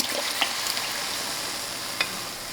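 Soft, steady sizzling of curried lentil soup ingredients frying in a pot, fairly quiet, with a couple of brief clinks over the hiss.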